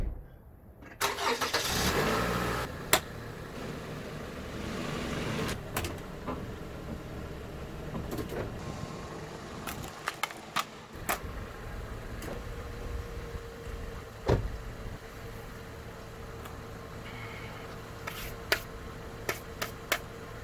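A Toyota RAV4 starts up and rolls over an AR-15 magazine, with a steady mid-pitched engine hum, several sharp clicks and knocks, and one louder thud partway through, close by with no talking.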